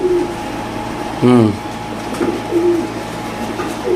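A large racer pigeon gives a single short, soft coo at close range against a low, steady background hum.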